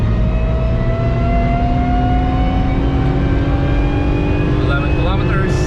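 BMW 1M on the Nürburgring at full throttle, the engine note climbing steadily and loudly through the gear as wind rushes past, with a voice speaking over it.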